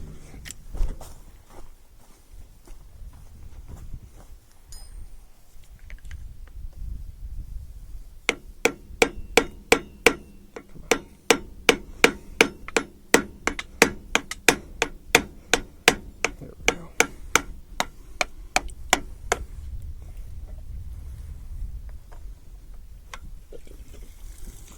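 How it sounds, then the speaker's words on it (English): Rapid, evenly spaced metal hammer blows strike an ACE sprayer pump during resealing, a run of sharp close knocks in the middle of the stretch, with quiet outdoor rustling before and after. "I'm gonna hammer."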